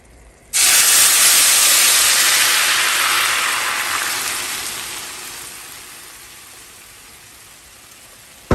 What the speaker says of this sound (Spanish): Lo que necesito es que empiecen a freírse estos jitomates, que empiecen a sacar sus jugos.